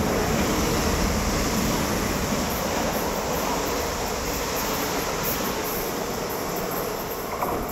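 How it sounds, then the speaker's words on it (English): A large train rumbles past close by in Badalona, Spain, a steady, loud roar of wheels on rails with metallic squeal, holding for several seconds before easing slightly at the end. "Wow, big train, eh?"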